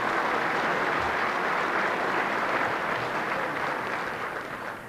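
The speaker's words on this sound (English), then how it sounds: "I'm not too sure if that round of applause is for Shea Fahy or for me" A large audience at a football and hurling awards show applauds in a sustained, dense wash of clapping that fades slightly toward the end.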